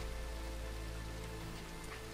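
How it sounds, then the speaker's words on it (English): Steady rain pours down in Red Dead Redemption 2 Online in a continuous hiss, with droplets patting a surface; no voices, just the even wash of rainfall throughout. "It's raining though."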